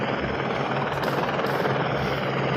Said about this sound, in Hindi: ये है हेलीकॉप्टर